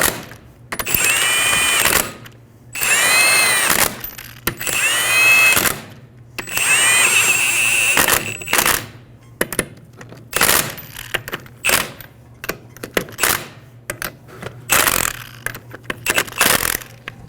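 A power tool snugs down the wheel lug nuts on a 2007-2011 Toyota Camry, with three loud whirring bursts of a few seconds each followed by shorter rattling spurts and clicks.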